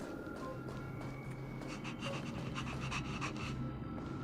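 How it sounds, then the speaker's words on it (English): A dog pants rapidly and rhythmically in Honkai: Star Rail, quick breathy huffs repeating up close over a faint steady game background tone. "Dog sounds."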